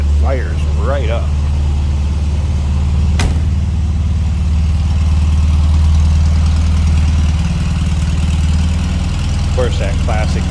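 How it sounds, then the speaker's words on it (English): A 1968 Volkswagen Beetle engine idles steadily with a low, even drone throughout, while a person talks intermittently near the start and end. "Every time I start it, it fires right up."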